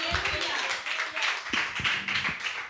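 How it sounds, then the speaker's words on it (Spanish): A church congregation claps hands in a lively, rhythmic patter during a worship service, with voices and faint low tones mixed underneath. "déle fuerte palmas al que vive"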